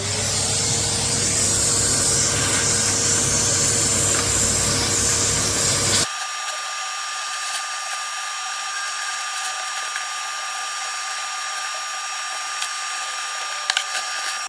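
A vacuum cleaner hoovering a computer keyboard gives a loud steady whine that cuts abruptly halfway, leaving a thinner high-pitched motor hum to the end.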